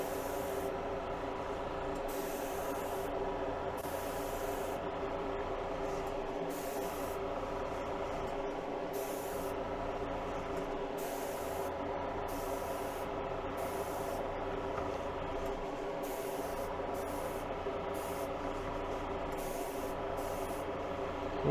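A paint spray gun hisses out light coats on a Buick, a continuous airy spray broken by regular short pauses as the gun sweeps back and forth.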